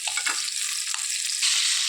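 Fish sizzling gently in a pan over a low flame, a steady crackling hiss with light bubbling pops, close and continuous with no voices.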